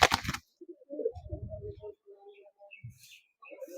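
Kaldoma pigeons in a loft give soft low coos in short bursts, one sharp noise at the start and a few quieter calls near the end, all fairly close by and faint.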